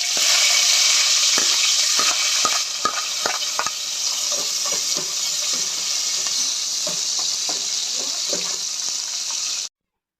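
Chopped onions and mustard seeds frying in a pan for Andhra-style gongura chicken, a loud continuous sizzle with repeated clinks and scrapes of stirring, without talk, cutting off abruptly at the end.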